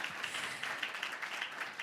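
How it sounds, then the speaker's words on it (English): Applause from a session audience at a conference on healthy soils for climate, biodiversity and water, a steady wash of clapping at moderate level lasting just under two seconds, with no voices over it. "one more applause."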